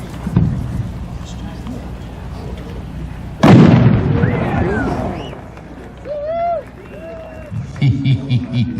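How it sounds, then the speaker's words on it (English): A 5-inch blue and gold glitter shell with purple pistol bursts at a fireworks club showcase: a sharp, loud boom lands midway, followed by crackling glitter and faint whistling streaks, with people talking and cheering before and after. "she's made a 5-inch blue and gold glitter with purple pistol shell."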